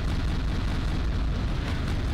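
Continuous rumbling explosions in the shooter game Quake II, a dense, steady wash of booming noise throughout without clear gaps and with no voices.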